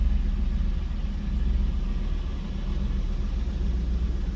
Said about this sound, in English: Nice deep throaty growl on these cars